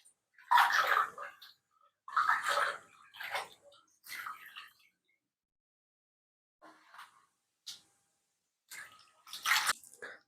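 Freshly picked spinach greens are swished and squeezed in a basin of water in a village kitchen, making several separate close splashing, dripping bursts with quiet pauses between them and no talking.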